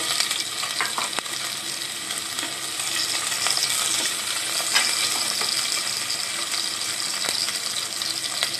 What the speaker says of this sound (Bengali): হাফ কাপ চপড অনিয়ন আমি একটু ফ্রাই করে নেব।